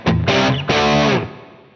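Guitar through a Line 6 Helix with reverb: two distorted strummed chords, a short one then a longer sustained one, ringing out into a reverb tail.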